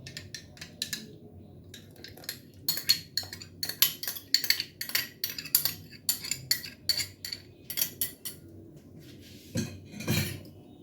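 A utensil stirs heated milk for paneer in a pot on low gas, giving repeated metallic clinks and scrapes in irregular bursts, close and moderately loud, with no talking.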